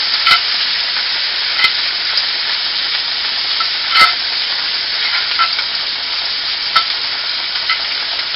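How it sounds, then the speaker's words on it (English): Chipped beef frying in a hot pan while being stirred, a steady close sizzle with occasional sharp scrapes and clicks of the utensil against the pan, no voices. "Start stirring it as soon as you get it in there because you want it to fry a little bit"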